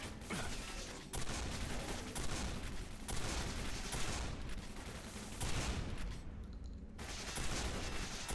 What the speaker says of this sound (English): How many shotgun shots does it take to kill this guy versus how many shots of the other gun takes it?